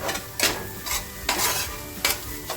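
Egg bhurji (scrambled eggs with green chilli) frying in a pan, stirred in several loud scraping bursts over a steady close sizzle, with faint utensil clinks.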